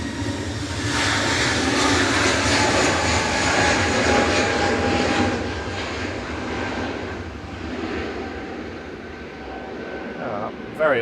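Scandinavian MD-80 jet at an airport: a loud, close jet engine roar with whining tones that peaks early, eases and lingers, with talk mixed in over it.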